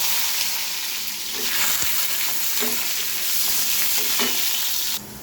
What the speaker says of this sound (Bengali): এবার আমি এর মধ্যে পেঁয়াজটা দিয়ে দেব